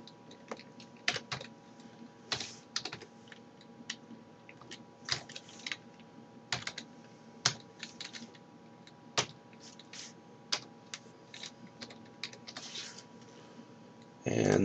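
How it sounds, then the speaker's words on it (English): Rapid bursts of keystrokes on a computer keyboard while a host name is entered during scanner network setup in Windows XP, irregular clicks and taps close up over a steady background hum, ending in a louder thump. "then we're going to type in the host name"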